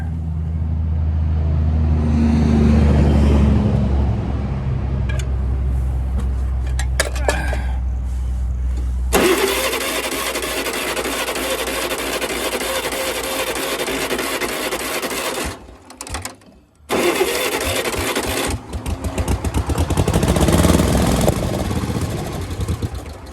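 A Yazoo mower engine is started for the first time after fuel is poured down the carburetor intake, and it runs loud and rough close by, with a harsh rasping clatter, brief stumbles and a dip before it picks back up.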